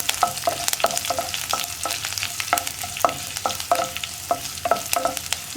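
Sliced onions, dried red chillies and curry leaves being stir-fried for a Kerala thoran, with a steady sizzle broken by repeated sharp scraping strokes of a spoon against the pan, close and clear, with no talking.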